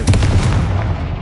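A single Confringo fire-spell explosion in Hogwarts Legacy on PS5 hits as a loud, close, heavy boom and then rumbles and fades over about a second.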